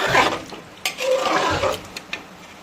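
A spoon stirs mutton curry in a pot right after hot water goes in, giving soft wet scraping and sloshing with a few light clinks against the pan, close and alone.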